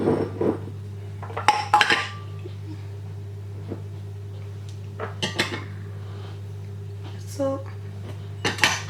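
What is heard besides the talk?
combining dry dough ingredients in a bowl by hand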